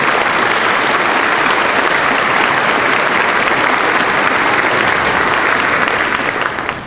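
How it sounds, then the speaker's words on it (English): Sustained, dense applause from a large commencement audience at a college graduation ceremony honoring students, loud and steady throughout, tapering slightly at the very end. "one more round of applause for these outstanding students"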